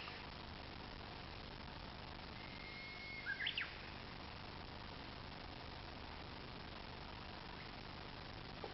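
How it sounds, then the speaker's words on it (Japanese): A Japanese bush warbler gives one short, faint song phrase midway through in the Koajiro forest on the Miura Peninsula, near a wetland, set against a steady, quiet outdoor hiss. "ウグイスの鳴き声が聞こえます。"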